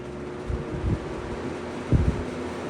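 A 1980s box fan from Eastern, Edison or Lakewood runs with a steady airy whoosh and low motor hum, while two brief bursts of rattling from its loose housing stand out.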